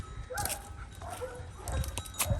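Kangal dogs bark faintly in the distance, a few scattered yaps over a rough, windy outdoor background.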